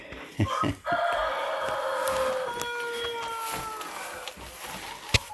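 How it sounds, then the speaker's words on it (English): Hens cluck and call close by inside a hen house, with a rooster-like crow rising over a steady murmur of birds and a few sharp knocks. "here's the first morning of the hens in the new hen house"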